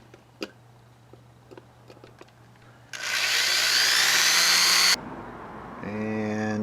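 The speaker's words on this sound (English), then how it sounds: "we're going to drill away about the top part of that" Drill boring into the rivet of a diecast model car, a loud steady high-pitched whine lasting about two seconds after a few light clicks and taps, followed by a lower motor hum.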